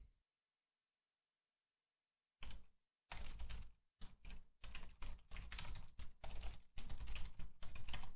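Computer keyboard typing starts after a couple of seconds of silence, bursts of rapid close clicks and key taps in uneven runs, alone without talk.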